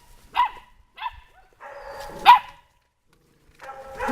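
A seven-week-old Malinois puppy gives several short, high yips and barks, some separated by gaps, with a longer whining bark in the middle, close and fairly loud.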